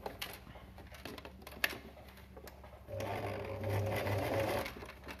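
A domestic sewing machine stitches a fabric face mask, running in a steady whirring burst for the second half after quieter handling sounds and a sharp click, close and fairly loud.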